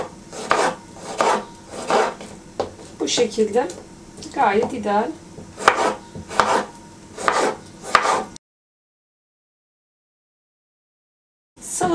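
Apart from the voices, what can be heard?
chopping vegetables with a knife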